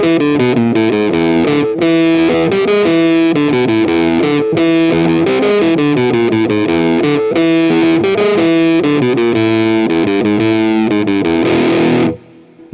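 Electric guitar on a Schecter Ultra III with both humbuckers selected, tone rolled fully down and overdrive added, playing a continuous distorted riff with steady chords and notes, loud and close, ringing out at the end.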